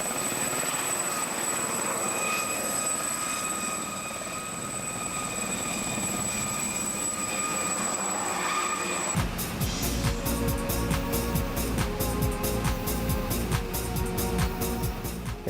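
A helicopter's engine and rotor whine steadily, then at takeoff a loud rhythmic rotor chop rises as it lifts off over crop-circle farmland.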